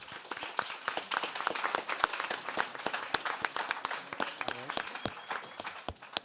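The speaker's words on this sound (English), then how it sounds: "give an applause for Shuka as well" Audience applause after a panel speaker at a climate justice discussion, a dense wash of many hands clapping with sharp individual claps standing out, sustained and fairly loud for several seconds with no talking.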